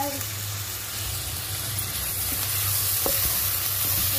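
Chopped tomatoes sautéing in a pan during chicken biryani preparation give a steady, close hiss of sizzling and frying, continuous throughout with faint stirring clinks and a low background hum.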